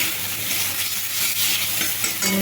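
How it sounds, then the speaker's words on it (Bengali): Spices being sautéed with fried potatoes in a pan for a tilapia fish curry, a dense, loud, continuous sizzle with faint stirring scrapes underneath, close up and without speech. "ভেজে রাখা আলু আলুর সাথে মশলাটা কষিয়ে নেব"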